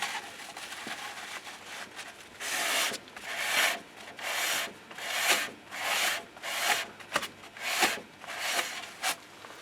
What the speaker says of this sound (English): now it's time to clean the braking disc